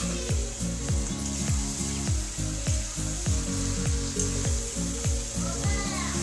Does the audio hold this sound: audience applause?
no